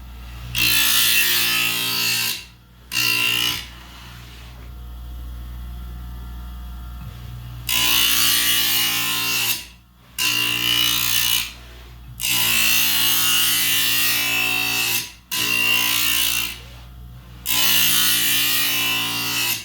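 A Grizzly sharpener slides back and forth along its oiled track while sharpening a planer blade, giving repeated loud, gritty grinding strokes separated by short pauses.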